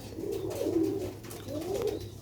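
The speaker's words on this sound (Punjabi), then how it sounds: "ਦੇਖੋ ਮਾਸ਼ਾਅੱਲਾ ਅਲੀ ਵਾਲੇ ਕਬੂਤਰ" Sialkoti Ali wale pigeons coo in two soft, rolling phrases, close by and fairly quiet, with a faint background hum and no talk.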